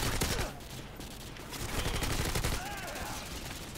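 An M4A1 assault rifle fires in Modern Warfare 2: quiet, rapid automatic bursts with brief pauses between volleys, set low in the game mix.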